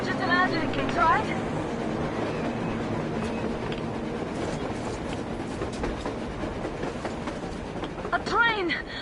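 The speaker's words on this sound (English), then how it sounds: "A train! A damn train on the surface!" A train moves across the surface in the video game Metro Exodus, its steady rolling rumble running under game ambience throughout, with brief whistling or squealing sweeps near the start and end while voices talk over it.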